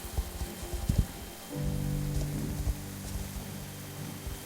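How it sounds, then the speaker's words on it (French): Steady video game rain patters and hisses across surfaces, with scattered louder drops and a faint low hum underneath. "Ok, ça pleut."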